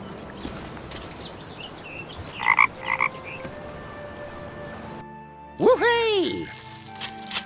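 Frogs croaking in the adventure game The Night of the Rabbit: two short croak bursts over a soft ambient background, followed by a louder chirping, warbling call and sustained tones.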